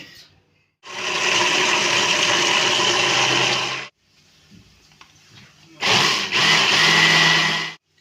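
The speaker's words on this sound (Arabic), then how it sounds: "هبدأ بقى كده اضرب كله في الخلاط" A blender whirs loudly for about three seconds, stops briefly, then runs again in two more bursts, close and steady, blending garlic sauce.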